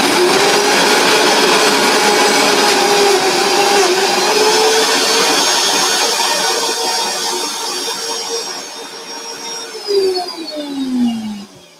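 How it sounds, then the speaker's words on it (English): A large Vitamix blender runs at high speed on a small amount of food in a kitchen, a loud continuous motor whine that holds steady for several seconds, then shifts pitch and sputters as it slows toward the end, with no talking. "unfortunately used the wrong Vitamix. I used the big one to make a small amount."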